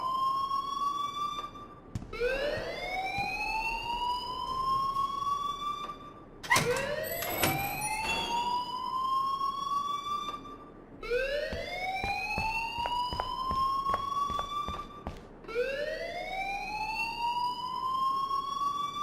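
A fire alarm in the video game Life Is Strange wails in repeated rising sweeps, each climbing tone cycling every few seconds, loud and continuous with brief sharp clatters between cycles.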